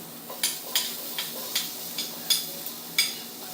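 Chopped red onion sizzles in a pan, a steady soft frying hiss overlaid by regular spoon-or-spatula stirring scrapes roughly twice a second, close and moderate in level.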